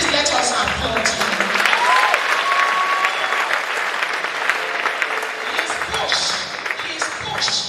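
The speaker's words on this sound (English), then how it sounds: "please let us applaud him" Audience applause at an inaugural university lecture, sustained clapping from a large crowd that stays dense and steady throughout, with faint voices mixed in beneath it.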